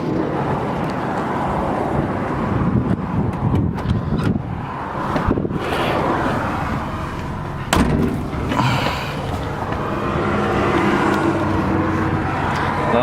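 A 1941 Chevrolet Master Deluxe Sedan Delivery drives along with a continuous engine and road rumble mixed with wind noise, punctuated by a few sharp thumps and knocks.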